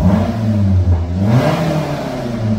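A Toyota Avanza fitted with an NDK Pro Street muffler and resonator revs loudly close by, its deep exhaust note rising and falling through one short throttle blip.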